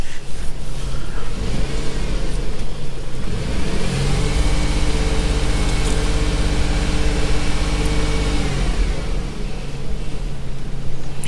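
Jeep Grand Cherokee engine idling steadily up close, with a smooth mid-range hum. It swells into a brief rev in the middle before settling back to idle. No one speaks over it.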